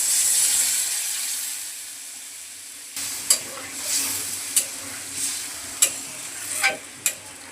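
Water poured into a sizzling potato and pointed gourd curry: steady frying hiss for three seconds, then a sudden change to bubbling, steamy sizzle with several sharp spoon knocks against the pan, no voices.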